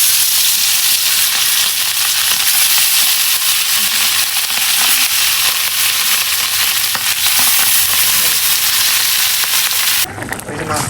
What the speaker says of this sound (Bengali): আমি মাছকে হলুদ দিয়ে রেখেছি, এটা ভাজি করবো এখন, হালকা একটু মাছটা ভাজি করবো।